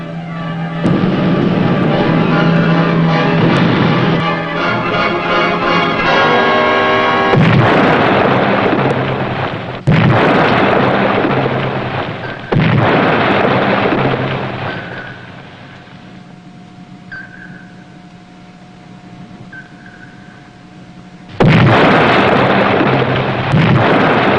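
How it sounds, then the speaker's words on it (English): Depth charges explode in a WWII submarine TV drama: a series of heavy, booming blasts with long rumbling tails, heard close and loud. Steady low rumble and a faint tone carry on between the bursts. "Rig for depth charge attack."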